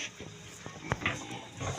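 Pigs on a farm grunting and snuffling in short, irregular bursts at moderate distance, fairly quiet with some background rustle.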